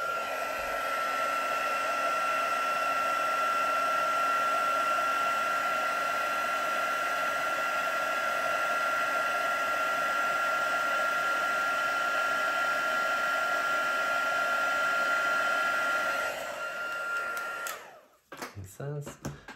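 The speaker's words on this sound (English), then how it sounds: "sprinkle over your embossing powder. Grab your heat tool." An embossing heat tool blows hot air over embossing powder, a loud, steady whirring whine that holds constant for about sixteen seconds before switching off.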